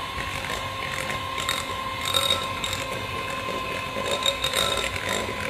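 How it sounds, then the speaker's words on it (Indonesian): Electric mixer running slowly through steamed palm sugar cake batter, a steady whirring, clicking mechanical drone with a constant motor tone at moderate level and no talk. "Kita mixer lagi dengan pelan."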